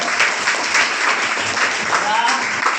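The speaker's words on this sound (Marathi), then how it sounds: "तिचं अभिनंदन करा टाळ्या वाजवून" A classroom of students clapping together to praise a girl's correct answer in a maths lesson, a dense, steady patter of many hands at close range lasting a few seconds.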